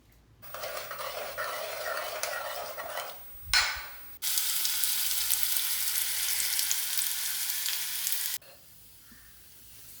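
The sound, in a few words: shallots and curry leaves frying in coconut oil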